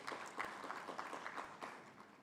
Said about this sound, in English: we need to give him a big clap